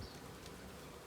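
Honey bees buzz densely and steadily inside an opened hive during an inspection, a close, continuous drone with no voices.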